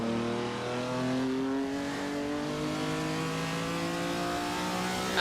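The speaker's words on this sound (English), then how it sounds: "I'm just enjoying the sound of that V12" A rare, very expensive V12 car on a drive around the Nürburgring holds a loud, smooth engine note, rising and sliding in pitch as it revs, heard close with no talk.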